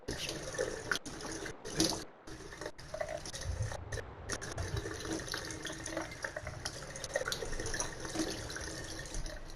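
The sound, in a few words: water running from a tap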